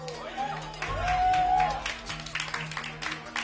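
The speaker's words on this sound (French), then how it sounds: "Applaudissons l'audace de madame" Studio audience applause at a French-language televised game show, La Poule aux oeufs d'or, with music playing, swelling to a steady clapping wash after the first second and continuing to the end, mixed with voices.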